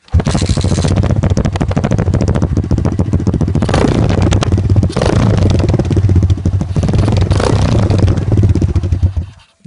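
Dirt bike engine with its exhaust baffle removed, started and revved hard, a loud, raw, rattling roar held for nearly ten seconds with brief throttle surges, close by.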